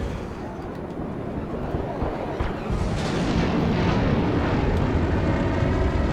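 Spaceship thrusters in the Star Citizen video game give a loud, continuous rushing roar that swells and grows denser partway through, with no talk.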